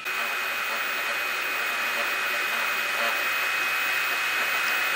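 Steady, loud mechanical whirring with a broad hiss and a faint high whine from a modified copier machine printing, running continuously without pause.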